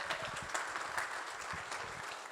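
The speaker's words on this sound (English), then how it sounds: "if I can get a round of applause for everyone here who's showing up" A conference audience at an agriculture event applauds briefly, a steady, fairly quiet patter of many hands clapping in a large hall.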